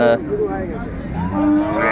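Cows low loudly at a cattle market in Ranigonj, Dinajpur, with several drawn-out moos close by and overlapping, and faint crowd murmur beneath.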